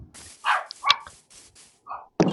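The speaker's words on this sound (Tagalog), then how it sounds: "ang iingay ng mga aso dito" Dogs in the game Minecraft give a few short, sharp barks and yips in quick succession, moderately close and heard alone.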